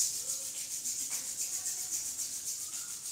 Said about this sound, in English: Exhale, rubbing my palms